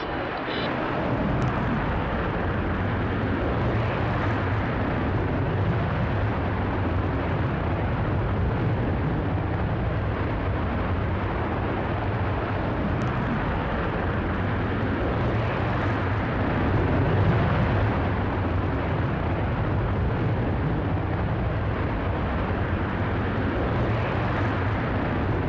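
A Virgin Galactic spaceplane's rocket motor fires after release, a dense continuous roar with a deep rumble that holds steady and loud throughout.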